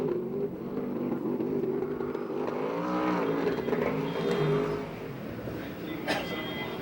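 A USAC sprint car laps the Perris track, its engine droning with rising and falling pitch sweeps as it passes at moderate distance, loud and continuous.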